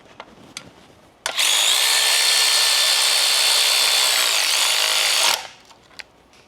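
Electric ratchet spinning loose fasteners while removing a damaged CV axle, a loud, steady high whir lasting about four seconds, framed by a few faint clicks before and after.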